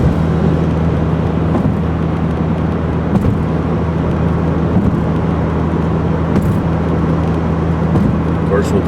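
A 1984 truck with the choke pulled out cruising down a road, a steady loud engine drone and road rumble filling the cab throughout with a few light knocks and no talk.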